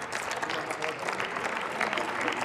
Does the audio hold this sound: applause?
yes